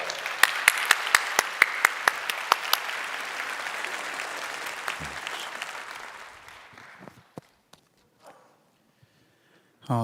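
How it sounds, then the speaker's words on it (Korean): Applause from a church congregation welcoming someone forward, a dense crowd clapping with a few sharp individual claps standing out, fading away after about six seconds into near silence with scattered stray claps. "우리 박수로 맞이해 주시기 바랍니다"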